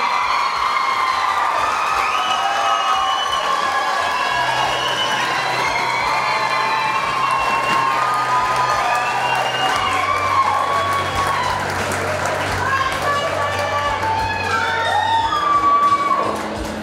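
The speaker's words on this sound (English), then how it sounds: "Our second runner-up this evening in the 2021 Miss Sangamon County Fair Queens Pageant goes to Grace Richter" A crowd at the 2021 Sangamon County Fair Queens Pageant cheers and applauds steadily for the second runner-up, with whoops and shouts rising over continuous clapping throughout.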